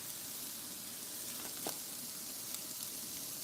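Food sizzles and fries in an iron skillet with a continuous dense crackling hiss, close and even throughout, with no voices.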